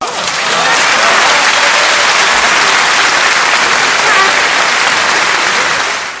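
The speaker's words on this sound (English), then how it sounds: "Let me give you an applause for that." Steady, dense applause from a crowd, swelling in quickly and holding at full loudness before tapering slightly at the end.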